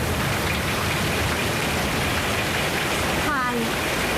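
Heavy rain pours in a steady, loud hiss, unbroken throughout, with a brief faint voice surfacing near the end.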